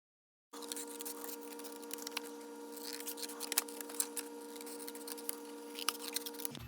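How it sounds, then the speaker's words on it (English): Scissors snip paper while a one-page DIY gift box is made: faint, scattered clicks and cuts over a steady low background hum, quiet and close. "we are going to cut it so we can have the inside"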